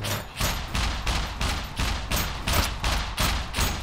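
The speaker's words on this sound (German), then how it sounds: "das schießt ja wieder durch die Wand" Rapid, steady bursts of gunfire in the survival video game SCUM, a loud repeating volley of shots firing through a wall, evenly spaced about every third of a second with no talk over it.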